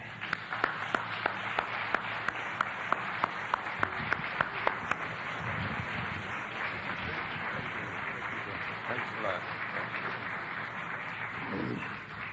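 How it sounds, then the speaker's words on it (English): An audience gives a round of applause to introduce Dr. Amos Wilson before his lecture, a distant, fairly soft wash of clapping with a few sharper individual claps early on, lasting several seconds. "I hope you'll give him a big round of applause by way of introduction"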